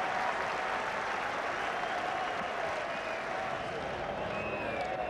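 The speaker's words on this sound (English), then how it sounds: "Applause of encouragement for the England batsman." Steady cricket crowd applause at an England versus West Indies Test match at Old Trafford, a dense wash of clapping from many people that continues evenly throughout, with a faint murmur underneath.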